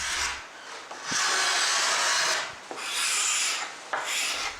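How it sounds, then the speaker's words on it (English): Old dried finish being scraped off a 1930s silky oak sideboard: long, steady rasping strokes, about four in a row with brief pauses between them, close up and alone. "it's so dried out I think I'll just scrape off as much as I can."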